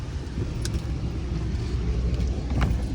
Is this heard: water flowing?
no